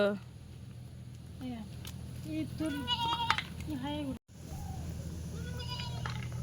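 Goats bleat in a Sundarbans village, with several short, wavering bleats close by alongside people talking nearby.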